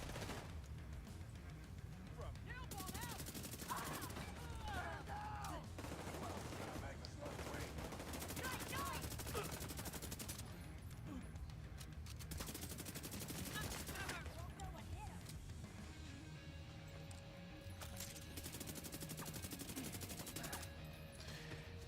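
Gunfire in The Division 2, with repeated bursts of automatic rifle fire in several volleys across the span, loud and close, mixed with game effects and brief talk.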